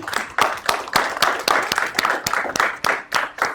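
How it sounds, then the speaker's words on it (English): Sparse, rhythmic clapping from a small audience at a real estate and finance seminar, distinct individual claps in a steady beat rather than a dense roar, moderately loud and close. "can we just give a round of applause to all the guys who helped here in the past?"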